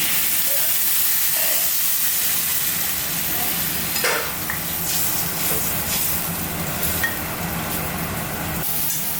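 Water poured into a sizzling Bengali fish curry in the pan, producing a loud, continuous steamy hiss and bubbling roar with scattered pops, no voices.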